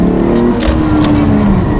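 A manual car's engine revs loudly from inside the cabin, a close, heavy low drone that holds steady with slight pitch swells across the short stretch.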